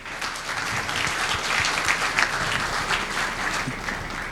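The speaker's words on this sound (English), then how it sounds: "Applause for him." An audience at a culinary master class claps continuously, a steady, fairly close round of applause with scattered individual hand claps and no speech.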